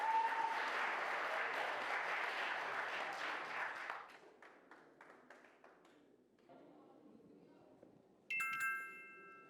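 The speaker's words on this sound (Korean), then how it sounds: "자, 그러면 제2권혁 첫 번째 발표팀 우리 창동중학교를 박수로 맞아주시기 바랍니다." An audience at a Korean middle-school mock-trial competition applauds to welcome a presenting team, steady clapping that fades into a few scattered claps, followed by murmuring and a bright chime near the end.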